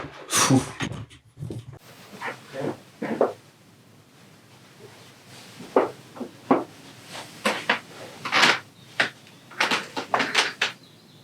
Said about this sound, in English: if that ain't the creepiest sounding door